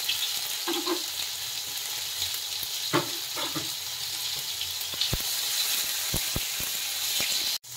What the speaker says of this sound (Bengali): এবার টমেটোগুলো দেবো আর লবণ দিয়ে দেবো, তাহলে তেলটা ছিটবে না।